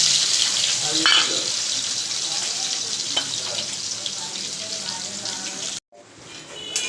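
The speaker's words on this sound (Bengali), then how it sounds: "এবার দিয়ে দেবো পেঁয়াজ কুচনো" Chopped onion frying in hot oil spiced with whole cumin and whole garam masala for a chicken curry, a steady close, loud sizzle with light stirring, briefly cutting out near the end before resuming.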